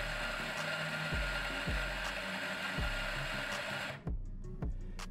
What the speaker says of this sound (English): we're going to grind 7 seconds directly into the porter filter, which will equate to about 20 grams of coffee.